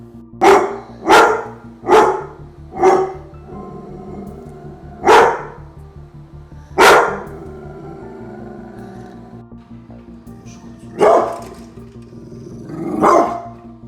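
Dogs bark in loud, sharp bursts, a quick run of five barks at the start, then spaced single barks further apart, heard alone over a faint steady hum.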